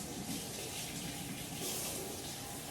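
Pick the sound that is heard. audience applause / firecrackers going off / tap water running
tap water running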